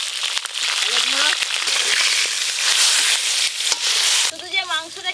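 A hilsa fish head, salted and dusted with turmeric, fries in very hot oil with a loud, crackling sizzle and stirring clatter, before a voice talks over a quieter spit near the end.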